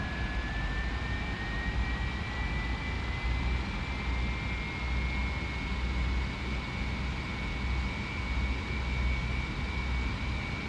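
Steady jet engine drone from a Boeing 737-300 in a flight simulator cockpit, a constant moderate roar with a thin rising whine that levels off, heard alone with no talk.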